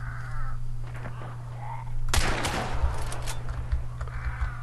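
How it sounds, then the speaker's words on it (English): Harsh cawing calls from crows in the video game Hunt: Showdown over a steady low electronic hum, followed by a sharp burst of noisy crackling gunfire. "Ah, shut up, stupid crows."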